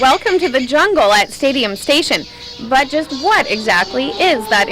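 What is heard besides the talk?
No distinct noise like a dog, phone or traffic.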